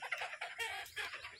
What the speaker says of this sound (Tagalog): May tumitilaok na, oh.